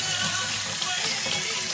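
Steady running tap water splashing as eggs are washed under it in a home kitchen sink, continuous and close, with no talk.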